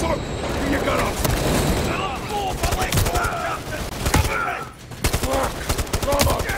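Dense gunfire from Call of Duty: Modern Warfare III (2023), a continuous fusillade of rifle and machine-gun bursts with booming impacts, loud and close, with shouted voices mixed in over the shooting.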